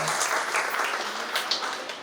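Loud, dense applause from a crowd at a community gathering welcoming the Chief Minister's private secretary, a steady wash of clapping sustained throughout with no pause.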